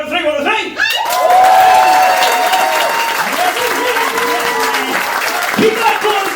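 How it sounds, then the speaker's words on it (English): A comedy-night crowd breaks into a loud round of applause and some cheering, a dense sustained clapping close by, while a host's voice carries over it near the start. "Can we have a quick press round of applause?"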